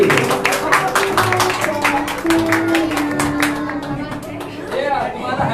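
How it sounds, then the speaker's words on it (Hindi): Congregation clapping for a birthday at a church healing service, a rapid, fairly steady run of hand claps over a sustained tone, with talk alongside. "ठोको ताली"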